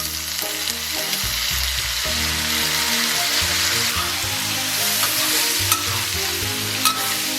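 Beef stir-frying in a wok with scallion, ginger, garlic and dried chili, loud continuous sizzling with rhythmic stirring and scraping of the spatula, close up and uninterrupted by voices.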